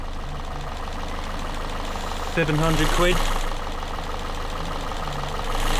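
A Citroen C3 engine idles after a cylinder head rebuild, giving a steady low hum with faint ticking while someone talks over it.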